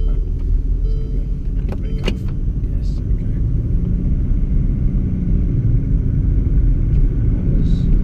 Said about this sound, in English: that was very smooth for a cold start